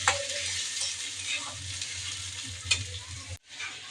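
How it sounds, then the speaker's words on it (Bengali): Onion and chili fry in oil in a pan for a fish dish, a continuous close sizzle broken by a few scraping stirs and a brief cut near the end. "মাছের জন্য পেঁয়াজা ভাজা মরিচ ভেজে নিচ্ছি তেলে"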